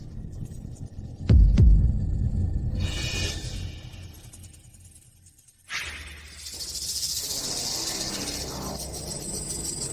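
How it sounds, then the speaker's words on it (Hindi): Many snakes in a drama sound effect: a sudden low boom gives way to droning hum, then a bright hissing, rustling texture swells and holds. "कितने सारे सांप?"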